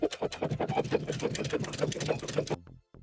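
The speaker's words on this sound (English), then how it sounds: "I'm going to be using my stretch stitch for this, sewing as close to the edge as I can." A sewing machine runs a stretch stitch along a swimsuit edge, a close, steady rapid chatter of the needle that stops abruptly near the end.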